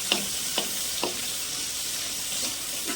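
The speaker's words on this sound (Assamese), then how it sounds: "এইফালে বুট ভাজি আছোঁ।" Chickpeas frying in a hot pan give a steady, dense sizzle, broken by a few soft scraping stirs near the start; no one speaks.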